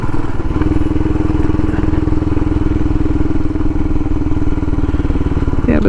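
A Royal Enfield Himalayan motorcycle engine runs steadily close by, loud and continuous with a throbbing low rumble throughout.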